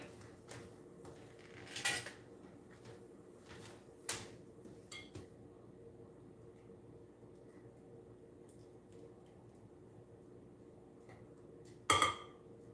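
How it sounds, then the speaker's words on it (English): Kitchen utensils clink as a spatula is fetched while preparing banana bread; a few sparse, sharp clinks and clatters stand out against a quiet room, with a louder rattle near the end. "Let me get my spatula."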